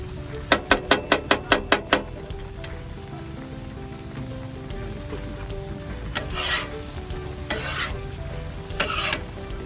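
Onions and garlic fry in a pan at a campsite for Hawaiian fried rice, a quick burst of sharp utensil taps on the pan, then a constant sizzle with occasional louder scraping stirs, close and without speech.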